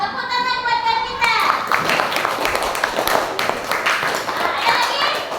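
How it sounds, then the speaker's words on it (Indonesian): Children clapping their hands together in a classroom, a burst of lively group applause that starts after a teacher's voice and continues with scattered taps and young voices mixed in. "Tepuk tangan buat kita."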